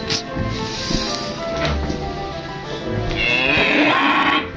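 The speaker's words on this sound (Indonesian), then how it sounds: "Ini sapi luar biasa ini." A roughly one-year-old cow on a village integrated farm, heard up close in its shed: a loud, drawn-out moo rises toward the end, with livestock stirring and rustling beforehand.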